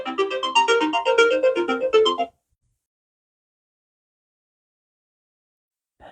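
A phone ringtone plays a bright melodic tune for about two seconds, then cuts off into silence before a brief tone returns at the very end.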